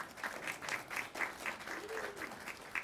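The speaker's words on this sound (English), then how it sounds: "Give them a round of applause." Steady applause from an audience at a school awards show honoring the Teacher of the Year and School-Related Employee of the Year, moderately distant and even, with a brief voice faintly underneath.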